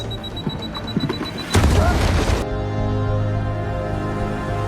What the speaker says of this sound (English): Her bomb's explosion radius is where it's landed